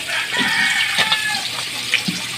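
A pot of Filipino sinigang broth with pork breast comes to a boil, giving a steady close bubbling and hissing with soft irregular pops and burbles throughout, no talking.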